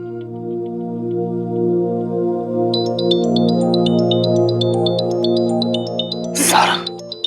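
A phone rings steadily with a repeating tonal melody that carries on for several seconds, then a brief rustle or click cuts it off near the end.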